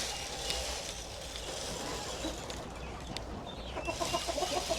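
Chickens kept in a coop cluck and murmur while being fed free-range poultry feed, a steady close flock chatter with scattered sharper calls and a busier burst near the end.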